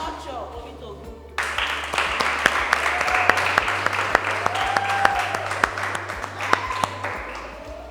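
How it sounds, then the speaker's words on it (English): Audience at a girls' empowerment programme close-out ceremony claps steadily as certificates are handed out, a dense continuous patter of applause that starts abruptly and fills the room, with a few voices underneath. "all of you will clap for yourself"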